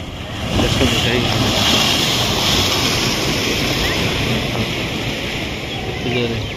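Sea waves at Paradip roar and churn continuously, a dense broadband surge with wind buffeting the microphone throughout.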